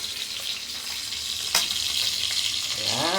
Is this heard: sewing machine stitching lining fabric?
no